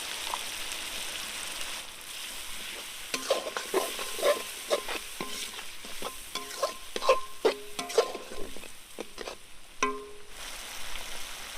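Village-style chicken chow mein stir-fried in a pan with turmeric, salt, onion, capsicum and chilli, giving a steady sizzle with repeated scraping and clattering stirs, close and fairly loud with no talking.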